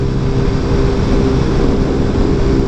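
An AS 150 motorcycle running without an air filter gives a loud, close, unbroken engine drone with a rough, raspy texture that holds steady throughout, with no voices over it.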